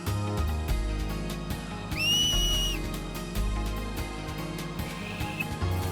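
A person whistles once, a rising then held tone lasting under a second, heard over busy background music and game sound from Final Fantasy X with no talk.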